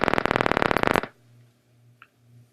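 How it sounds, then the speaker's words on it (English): Rat hippocampal place cell neurons fire in a dense burst of rapid crackling clicks, rendered as recorded activity, loud for about a second and then cutting to a quiet hum with one faint tick. "The neuron's burst of activity might sound like this."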